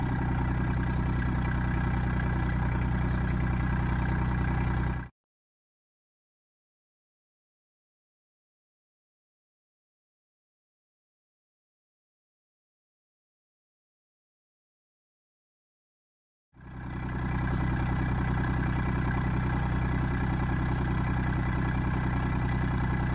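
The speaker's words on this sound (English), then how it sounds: "when we start the tractor up, the hydraulics on the backhoe will work." A tractor engine idles with a steady low rumble, cuts out abruptly into silence for about eleven seconds, then resumes at the same level. The tractor is a Kubota RK25 or T25 with a backhoe attached.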